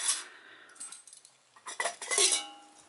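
A small folding spork and other bits are packed into a metal camping pot, making close, bright metallic clinks and rattles in two short clusters with a brief pause between.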